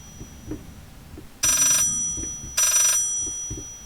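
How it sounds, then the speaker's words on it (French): An in-game telephone in the horror video game Layers of Fear rings loudly in two distinct bursts, each about half a second, separated by a short pause, with quiet ambience and faint footsteps between. "Il y a le téléphone qui arrête pas de sonner."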